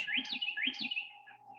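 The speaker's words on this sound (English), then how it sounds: "Oh, you hear this day and night. Carolina wrens, another great native bird, cavity nester." A Carolina wren, a native cavity-nesting bird, sings two quick, bright rising phrases at close range. A faint steady hum runs underneath.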